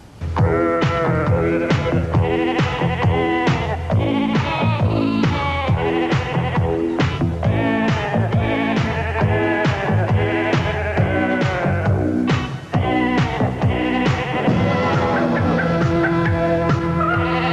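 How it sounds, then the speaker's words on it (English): Sheep bleating in sustained, overlapping tones so that the flock sounds as if singing, a loud dense chorus of wavering calls continuing without a break. "The Night the Sheep Sang"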